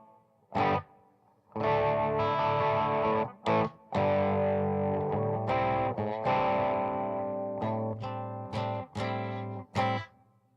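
Electric guitar played through a distortion and chorus effect, sustained chords and short stabs with little ambient tail, loud and close.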